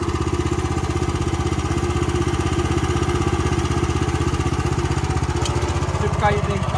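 A MOTOR SICH two-wheel tractor with a 13 HP engine runs in a fast gear, a loud, steady, rapid mechanical chugging with a strong even pulse throughout, close to the microphone.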